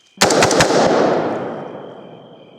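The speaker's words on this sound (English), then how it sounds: "I take a couple shots at the hog" A rapid burst of several gunshots fired at a hog near a swamp, loud and close, followed by a long echoing decay.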